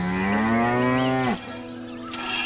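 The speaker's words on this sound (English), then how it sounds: "He is milking the cow." A cow gives one long, loud, close moo during milking on a farm, its pitch rising slightly before breaking off, followed by quieter background noise and a faint brief knock.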